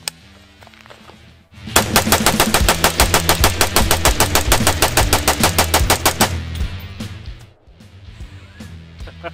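An AR rifle with a Palmetto State Armory 3.5 lb match-grade single-stage trigger and a 30-round magazine fires a rapid, even string of about thirty loud shots over roughly four seconds, heard up close outdoors.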